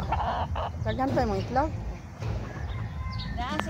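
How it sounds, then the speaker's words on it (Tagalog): Fighting roosters at a cockfighting area in Taytay Zone 1, El Salvador City, crowing and clucking in several close, overlapping calls over steady background noise and murmur. "Maraming mga manok dito na pansabong guys"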